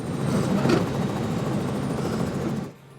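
A helicopter's steady rotor and engine drone, continuous and fairly loud, cutting off abruptly near the end, flying alongside fast racing catamarans at the 2021 Key West Poker Run.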